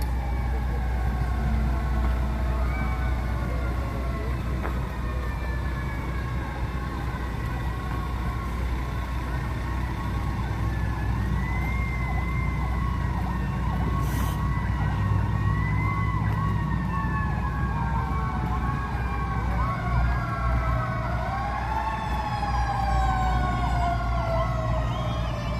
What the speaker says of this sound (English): there's always some sirens going off down here.